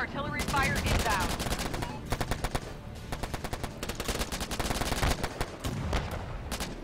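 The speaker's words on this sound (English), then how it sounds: "Friendly artillery fire inbound." Friendly artillery barrage in the online war game Warfare Online, a dense, loud stream of rapid gunfire-like blasts and impacts lasting throughout, with brief voices underneath.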